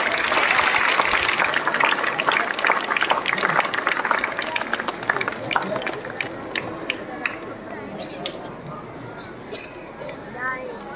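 Audience clapping at a school reward function for a creative talent hunt, a dense sustained round of applause from a crowd that gradually thins and softens toward the end.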